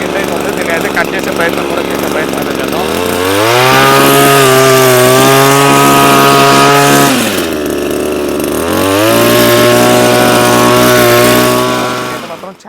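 A petrol single-edge brush cutter trimmer idles, then its engine is revved up to a loud, steady whine, drops back briefly around the middle, and rises again to full throttle before cutting off at the end.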